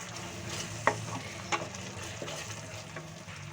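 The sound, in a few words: masala frying in a pan for shahi paneer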